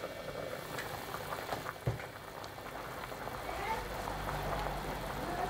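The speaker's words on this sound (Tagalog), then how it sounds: "Hayaan lang uli natin itong kumulo hanggang maluto din yung ating mga patatas." Beef broth with potatoes and a beef cube simmering in a pot, a soft steady bubbling with small pops and one sharper knock, fairly faint and continuous.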